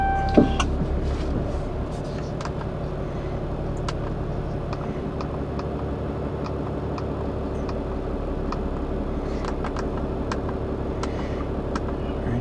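A 2019 Ram 2500 pickup's 6.7-litre Cummins diesel engine idles after starting, a steady low rumble with a faint ticking clatter that continues evenly throughout, with no talk.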